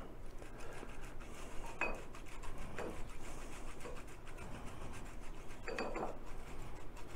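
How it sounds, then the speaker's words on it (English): Parmesan cheese is grated by hand in a kitchen, giving soft, close rasping strokes that repeat steadily with a few slightly louder scrapes. "we're going to grate some more parm"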